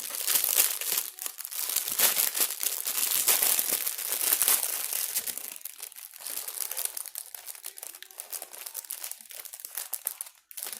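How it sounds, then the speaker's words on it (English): Continuous crinkling of plastic packaging, loud and close, with dense crackling rustles that keep going throughout without pause. "I apologize for the crinkling"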